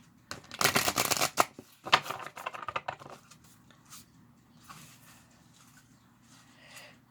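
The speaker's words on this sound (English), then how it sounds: "Give it a couple more shuffles" A deck of Lantern Oracle cards is shuffled by hand: a quick run of close riffling bursts, then softer sliding and tapping as the cards settle.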